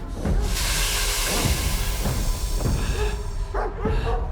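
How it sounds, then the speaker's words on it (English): A dog barks and snarls while attacking in the S.T.A.L.K.E.R. 2 video game, several rough, close barks and growls over a constant hissing, noisy background. "Oh, the dog is like biting him."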